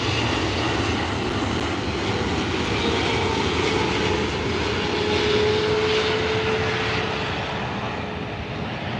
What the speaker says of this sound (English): that is a Turkish Airlines 777-300.